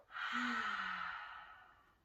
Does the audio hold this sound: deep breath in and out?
yes